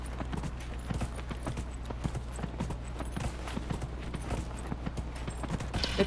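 Horse hooves clip-clop steadily in Dragon Age: Inquisition, a continuous run of even, fairly close footfalls over a low droning game ambience, with no talking.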